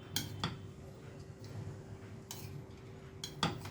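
A spoon stirs kanda poha in a pan, giving a few faint, sparse metallic clinks and scrapes against a quiet background.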